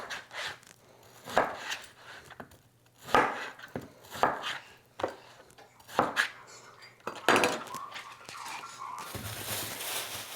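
A knife chops through watermelon rind on a cutting board in a kitchen, with a series of sharp, irregular cutting knocks close up, followed by a sustained scraping slice.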